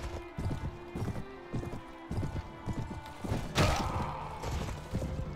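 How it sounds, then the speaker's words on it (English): A horse galloping in a video game, its hooves making a steady, rhythmic clip-clop of close thuds with a brief louder crash partway through. "Go, horsey. Pick up speed."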